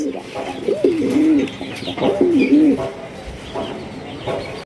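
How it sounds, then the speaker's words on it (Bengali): A pair of large fancy pigeons (Sherazi type) coo close by, two distinct rolling coos in quick succession followed by softer murmurs, with faint chirps and room noise behind. "একজোড়া ব্ল্যাকলেস শাড়িন কবুতর মার্শাল"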